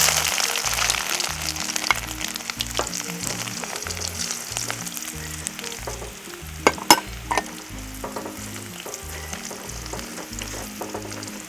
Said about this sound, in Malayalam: ഇനി ഇതിലേക്ക് ഇഞ്ചി ഇടുന്നു